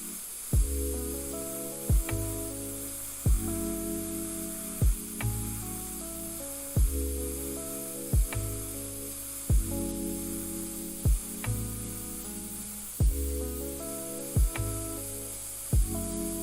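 An airbrush hisses continuously and evenly throughout, sitting under a repeating musical background with regular beats.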